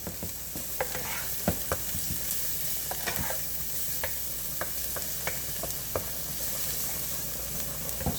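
Onions and garlic cooking in a pan for a Puerto Rican-style shepherd's pie, a soft continuous sizzle broken by frequent light clicks and scrapes of a stirring utensil, no speech.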